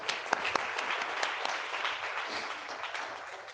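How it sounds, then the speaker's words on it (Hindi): Audience applause, a steady burst of many hands clapping at moderate volume, with a few sharper claps standing out early on. "ऐसी सभी माताओं बहनों के लिए एक बार जोरदार तालियां हो जाए।"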